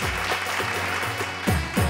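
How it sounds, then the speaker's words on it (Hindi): A short burst of clapping from a television show audience, fairly loud and steady, rising briefly near the end. "बहुत जोरदार तालियां इनका ला।"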